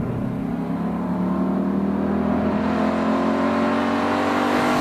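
A Ford Mustang Boss 302 V8 engine revs steadily and loudly up close, a dense continuous roar with rising harmonic tones and no talking.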